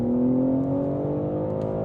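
A BMW M3 G80 engine revs steadily through a Milltek single midpipe exhaust with OPF delete and stock catalytic converters, a deep, rumbling tone that holds loud and close throughout, with no talking.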